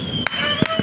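New Year fireworks bursting nearby: two or three sharp, quick bangs within under a second over a steady tonal background.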